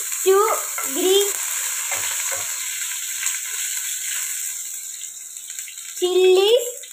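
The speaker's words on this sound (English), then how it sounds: "heated some oil and add finely chopped garlic" Finely chopped garlic fries in hot oil while a cook stirs, a steady hiss that runs throughout, with spoken words breaking in near the start and again near the end.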